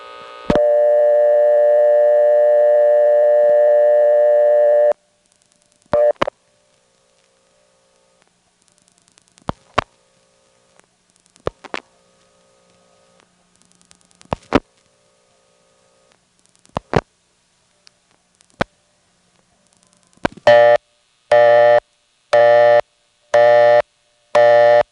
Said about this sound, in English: Let's hear the local Windsor busy signal by dialing the number of the payphone.